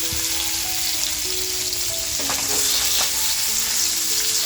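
Pomfret stuffed with prawns fries in hot oil over a high flame, a dense steady sizzle filling the whole stretch at close range with faint tonal hum lines beneath and no voices.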